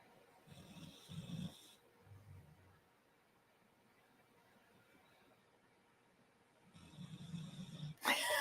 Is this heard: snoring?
yes